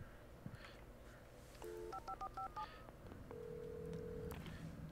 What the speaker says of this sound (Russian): Телефончик.